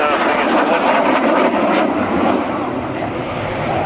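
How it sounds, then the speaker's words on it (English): French Air Force Alpha Jet landing at an airshow, a loud, steady roaring engine wash filling the scene throughout, with speech faintly mixed in. "And a beautiful landing by... Deze Franse Alpha-jet."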